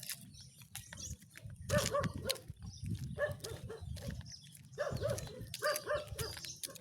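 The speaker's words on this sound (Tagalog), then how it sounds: "May tuta pre oh." A small puppy yelps and whimpers repeatedly in short high cries outdoors, fairly close, amid rustling and faint background noise, with no one talking over it.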